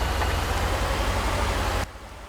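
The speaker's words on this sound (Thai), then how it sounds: "โอ้เสียงรถดัง" A loud, steady engine drone dominates, close and constant, then drops abruptly to a quieter rumble near the end.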